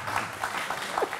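Audience applause on a French live sports debrief broadcast, a steady wash of clapping that holds at an even level throughout the short stretch.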